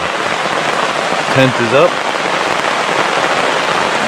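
Steady rain patters on a tarp over a tent at Little Pond Campground, a New York State DEC site, as a constant close hiss with a brief spoken remark partway through.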